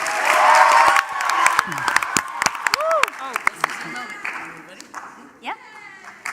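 An audience at a fine arts evening event bursts into loud applause and cheering, strongest at the start, then thinning into scattered claps and whoops with voices calling out as it fades.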